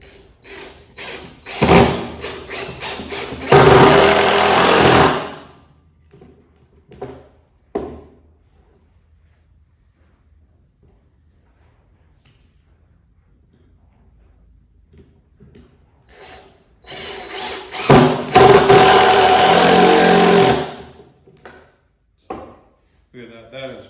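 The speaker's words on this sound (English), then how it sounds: "plop it on this other piece of wood with a screw, and it comes with a square drive bit" A square-drive bit drives a screw into a piece of wood, heard as two bursts of loud whirring about fifteen seconds apart, with scattered knocks and handling noises in between.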